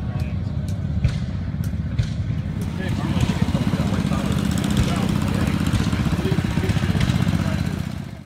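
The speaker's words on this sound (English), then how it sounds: "they have a tractor that pulls a kind of a wagon, almost like a hayride" A tractor pulls a hayride-style wagon around the grounds of a summer show, its engine a steady, fairly loud low rumble that swells a little midway and runs continuously outdoors.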